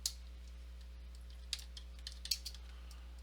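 A folder name being typed on a computer keyboard, heard as sparse, faint key clicks spread irregularly over a steady low electrical hum.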